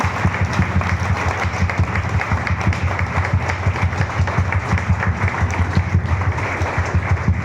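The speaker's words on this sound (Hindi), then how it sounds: "एक जोरदार ताली, जोरदार" Sustained audience applause at a seminar as the speaker Chandan Kumar is welcomed on stage, a dense, even, continuous clapping that stays loud throughout.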